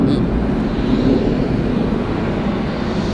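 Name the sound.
airplane at Atlanta Hartsfield-Jackson airport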